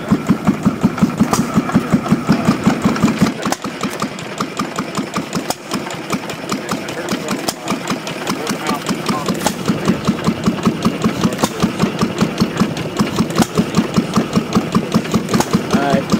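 A small model tractor engine chugs steadily in a fast, regular rhythm at an engine show, close and fairly loud, running on for the whole stretch.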